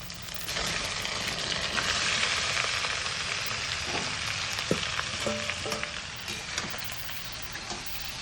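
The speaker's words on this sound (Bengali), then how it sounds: "কয়েক সেকেন্ড ফ্রাই করে এবার আমি সমস্ত সবজিটাকে দিয়ে দেবো।" Crushed ginger frying in oil in a pan for Bengali shukto, a loud dense sizzle with crackles and spatters, plus a few utensil clinks midway.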